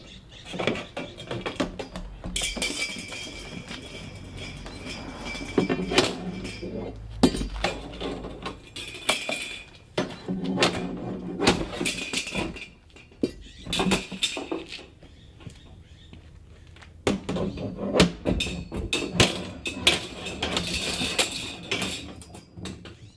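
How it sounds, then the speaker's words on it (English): Repeated sharp metallic clanks and bangs as a wrecking bar strikes and knocks loose barrel hoops, coming in irregular bursts with pauses between them. "does a really good job of catching the barrel hoops and just pounding them off"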